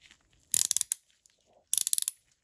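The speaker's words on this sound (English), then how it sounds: "Should be ratcheting." A Pittsburgh go-thru ratchet from Harbor Freight clicks after reassembly: two short bursts of rapid, close metallic clicks separated by a brief quiet gap.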